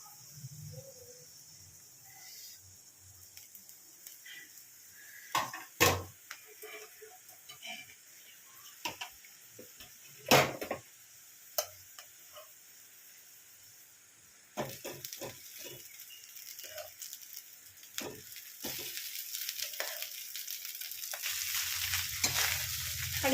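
Rice gets stirred into a pan with carrots and beans, sporadic scraping and clattering of a spatula over a low sizzle that grows louder and denser toward the end.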